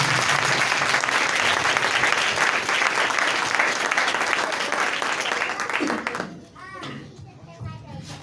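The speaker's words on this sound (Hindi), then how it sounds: "जोरदार तालियों के साथ।" A congregation at a Sunday church service claps in loud, sustained applause that fills most of the moment and then stops suddenly, after which a voice speaks nearby.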